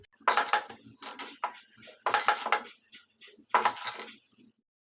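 A utensil clinks against a bowl as ground spice paste is scraped into it, three distinct bursts of clatter and scraping, close and fairly loud, with short quiet gaps between.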